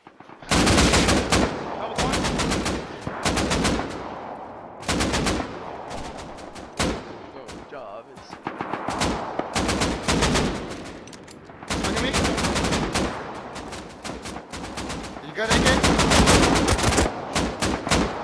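AK rifle in the survival game Rust fires repeated loud automatic bursts separated by brief pauses, with other gunfire mixed in across the fight.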